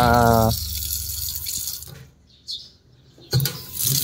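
Water runs from a sink faucet fed by a 1/2-inch flexible hose, a short gush that cuts off, then faint drips and a renewed splash of flow.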